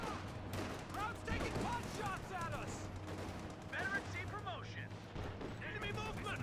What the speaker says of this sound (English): A torrent of gunfire,